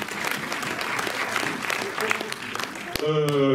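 Applause from a cinema audience at the Méliès in Montreuil, a dense steady clatter of many hands that breaks off near the end as a voice starts speaking.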